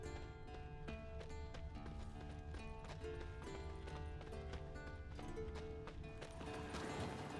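Rhythmic clip-clop of horse hooves in the Witcher 3 video game, a steady trotting gait under sustained game music.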